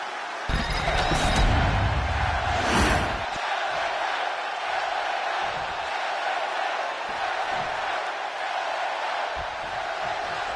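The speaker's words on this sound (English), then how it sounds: "Well, the roar of the crowd tells you all you need to know." A wrestling arena crowd at a Friday Night SmackDown event roars loudly at first in a swelling burst, then settles into a sustained, steady crowd din with occasional thumps.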